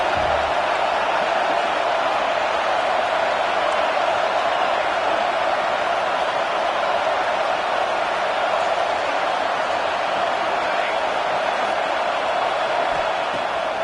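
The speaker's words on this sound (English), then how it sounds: "Listen to this crowd just shaking the girders of this place trying to help their defense." A loud stadium crowd at a Tennessee vs Washington football game roars steadily for the defense, a dense, unbroken wall of cheering noise throughout.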